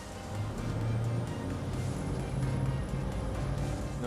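A Cranchi 60 ST motor yacht accelerating hard while planing, its engines giving a loud, steady roar with rushing water noise that stays constant and close throughout.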